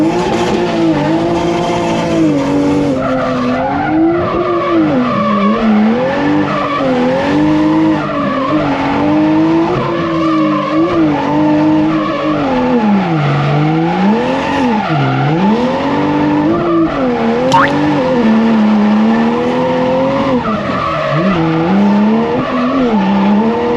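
Toyota A90 Supra drifting, with loud sustained tire squeal that wavers in pitch over a continuous engine drone, close and steady throughout.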